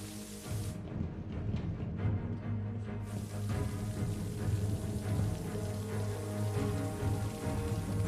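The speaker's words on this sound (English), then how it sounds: "Suddenly, water begins to pour into the submarine." Water gushes and rushes continuously into a submarine in a dense, low churning roar, like a steady inflow flooding an enclosed space.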